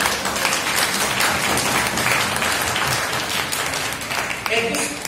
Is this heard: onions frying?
no